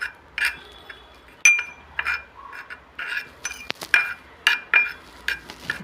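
A spoon mixing an aloe vera gel face pack in a bowl, producing a series of distinct clinks and scrapes against the bowl in an irregular rhythm, close and clear with no talk.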